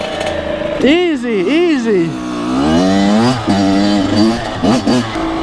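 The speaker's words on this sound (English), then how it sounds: "I love a two-stroke." A two-stroke dirt bike engine revs and bogs in rising and falling bursts, loud and close, picking its way through rough ground on a street ride while a rider speaks briefly over it.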